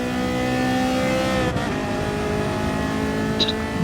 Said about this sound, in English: Just winding that Ferrari up.